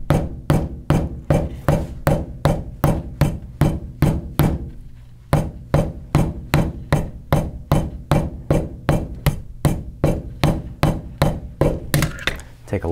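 Rapid, regular hammering on a bullwhip's cone-shaped ferrule knot, loud close strikes repeating about twice a second, with a brief pause midway before the blows resume.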